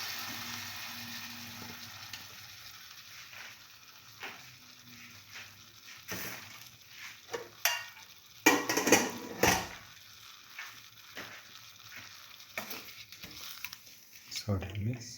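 Cooked potatoes go into a hot pan for a potato bread stir fry, setting off bursts of sizzling and stirring scrapes that grow louder midway, with quieter frying hiss between them and no talk.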